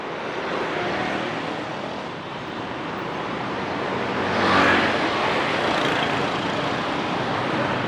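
Dense traffic in a Saigon jam near Bach Dang wharf, a steady broadband roar of engines and road noise that swells briefly midway, with no talk over it.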